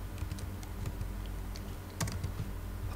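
Someone types on a computer keyboard while filling in a field in mining software, a steady run of quiet, close key clicks with a brief cluster of sharper taps near the middle.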